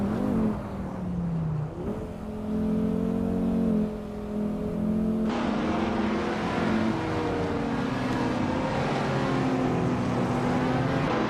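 A 2010 Audi TT RS race car engine in a racing game drones steadily and changes pitch as it revs through the gears. Other engine tones layer in partway through, and no one speaks.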